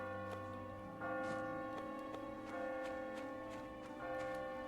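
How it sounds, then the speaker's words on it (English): A video-game church bell tolls twelve o'clock, with rich ringing strikes about once a second layered over a sustained resonant hum, clear and unaccompanied by voices. "the bell tolls for 12 o'clock."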